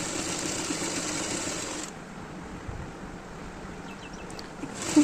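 A sewing machine runs steadily while stitching the folded hem of a nighty, a low even hum that drops slightly in level partway through, with a small clack at the end.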